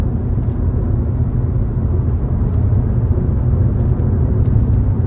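A VW Passat B7 with a 1.4 TSI engine pulls uphill in fourth gear, giving a steady, loud low engine drone and rumble that holds throughout with no talk.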